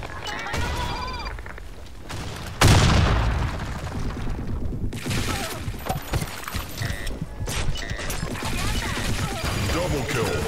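A loud, sudden grenade blast in the Blackshot competitive shooter lands a few seconds in, followed by a dense spread of gunfire and combat noise that keeps going to the end.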